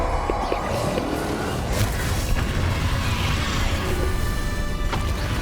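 A Bombarda spell explosion in Hogwarts Legacy, a dense, steady rumble of booming blasts and crashing debris filling the whole clip at a constant loud level, with no talk over it.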